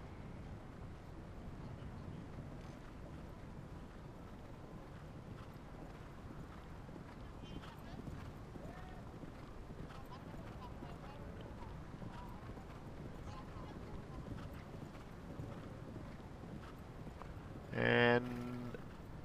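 Steady hoof clip-clop of a horse moving over ground at a show jumping Nations Cup event, blended with crowd murmur and wind noise, with a brief louder burst near the end.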